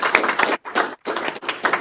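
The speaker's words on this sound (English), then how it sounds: "So please help me celebrate and give Cindy applause." An audience at a retirement celebration claps in short bursts broken by brief pauses, close and moderately loud.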